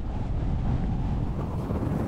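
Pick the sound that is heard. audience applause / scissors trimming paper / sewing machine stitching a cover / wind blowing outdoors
wind blowing outdoors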